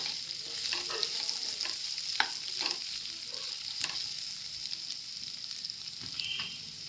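Chicken pieces added to a fried masala for a chana dal chicken curry sizzle steadily in the pan, while a spoon scrapes and stirs through them in repeated strokes.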